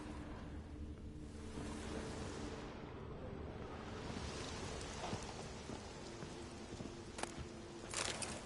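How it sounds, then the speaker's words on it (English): Steady rain in The Witcher 3: Wild Hunt hisses as a dense, continuous wash, with a low rumble underneath and a few sharper drops near the end, all fairly quiet and with no voices. "Looked like it would rain, and here it is."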